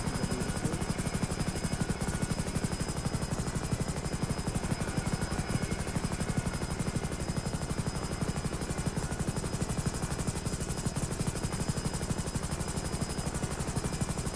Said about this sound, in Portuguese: Aeronave próximo ao solo. Dez metros ao solo.